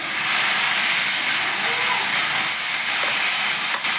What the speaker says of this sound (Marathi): टोमॅटो चांगले मऊ होईपर्यंत मला परतून घेऊया